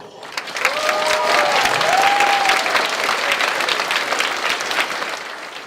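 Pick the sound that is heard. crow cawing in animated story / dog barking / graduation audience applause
graduation audience applause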